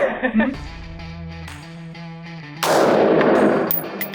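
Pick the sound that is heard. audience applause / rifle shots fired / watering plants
rifle shots fired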